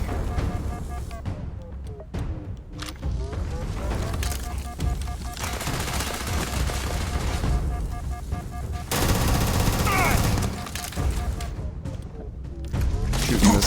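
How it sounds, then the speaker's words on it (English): Sustained gunfire from several guns in a Starfield fight: rapid automatic bursts mixed with single heavy shots and mechanical clatter, loud and continuous throughout, with game music underneath. "Shooting this guy with every gun I fucking own"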